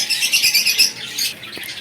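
Exotic pet birds for sale in a shop: a burst of shrill, repeated squawks and chirps close by, loud and overlapping, with no voices.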